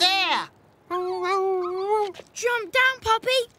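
A scared cartoon puppy whimpers in high, wavering whines, first one long cry, then after a pause a longer drawn-out whimper followed by several short yelps, loud and close.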